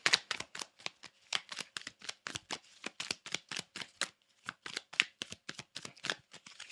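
A deck of tarot cards is shuffled in steady, crisp riffling bursts, close and fairly quiet, repeating rhythmically with a short pause partway through and no talking.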